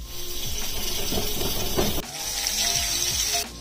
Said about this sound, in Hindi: मैं अब इसकी स्टीम सब निकालती हूँ